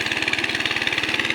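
A small 12 horsepower engine powers a farm tiller used for puddling mud fields in Agusan del Sur. It runs at a steady idle with a fast, even pulsing throb and a buzzing rasp, close by and continuous, with no talk.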